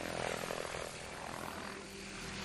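Thunder Tiger Raptor G4 E electric RC helicopter flying aerobatics at 1200 RPM, a steady whirring rotor and motor drone that swells and eases slightly as it maneuvers, fairly close and continuous with no talking.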